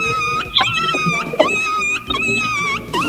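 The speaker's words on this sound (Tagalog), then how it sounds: "Yung aso mo po yung naipit. Naipit sa sa pintuan." A dog whimpering after getting caught in a door gives repeated high, wavering whines and yelps, fairly close and loud, with short breaks between cries.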